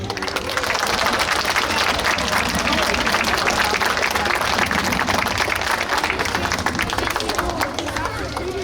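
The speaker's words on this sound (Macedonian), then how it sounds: "Еден аплауз ме молам." Dense, sustained audience applause filling a hall at a cultural centre show in Resen, a loud continuous wash of many hands clapping with crowd murmur mixed in.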